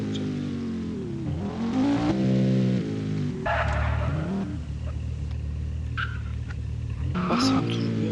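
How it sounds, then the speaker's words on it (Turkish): A Porsche engine in the Madout2 video game roars and revs through rising gear sweeps, with shifts and bursts of acceleration, loud and close while someone talks over it. "Maşın çok süratli. Porsche tabii ki de süratli olacak."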